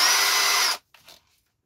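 A power drill bores a 2.5 mm pilot hole, whirring loud and steady for under a second before stopping abruptly, followed by a brief faint clatter of handling.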